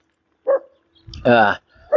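A small dog barks a few short times close by, the sharp yips spaced across a couple of seconds, with a voice sounding in the middle.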